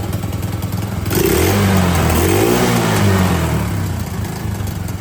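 A four-wheeler's small engine idles, then from about one second roars up into loud revving that rises and falls in pitch before easing back toward idle.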